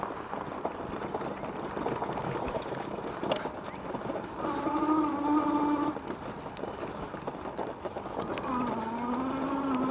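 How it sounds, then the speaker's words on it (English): A Talon T757 electric bike motor at part throttle gives off a rising electric whine in two stretches, under steady wind rush and trail noise. "I'm just doing part throttle here, and you can just hear that motor's got the torque"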